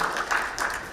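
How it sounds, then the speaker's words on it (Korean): An audience at a publishing technology exchange meeting gives a brief, steady burst of clapping after a presentation, heard alone for about a second. "다시 한번 박수 부탁드립니다."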